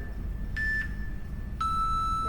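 Workout interval timer gives two short electronic beeps during a strength training session, one brief tone and then a longer, louder one over a steady background hum.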